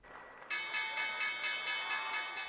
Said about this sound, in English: The opening bell at the New York Stock Exchange.